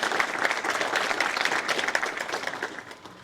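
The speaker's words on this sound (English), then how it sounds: "Big round of applause for our board members." Audience applause at a chamber of commerce public affairs breakfast in Edinburg, honoring board members; dense, steady clapping from a crowd throughout, fading slightly at the end.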